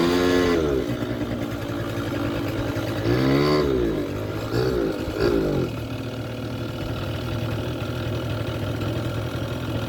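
A 50cc scooter engine with a faulty carburetor and bad fuel runs unevenly near the microphone, idling roughly with a few brief revs that rise and fall before settling back to a lumpy idle.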